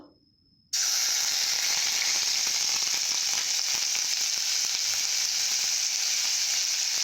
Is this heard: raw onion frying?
yes